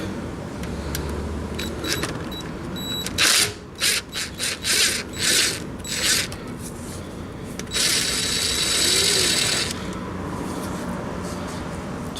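A ratchet working loose a car's oil drain bolt during an oil change, a quiet run of clicking strokes in several short bursts, close by, with faint background noise.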